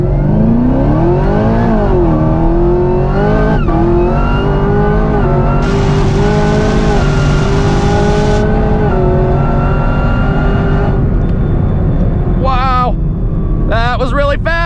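Exorcist Camaro ZL1 with 1000 horsepower accelerating hard along a strip, its engine climbing through gears with sweeping revs and sharp downshift blips, loud and close throughout.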